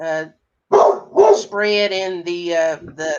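Dog barking repeatedly nearby while someone talks over it during a North Carolina evening discussion, several loud yips and barks blending with the voice.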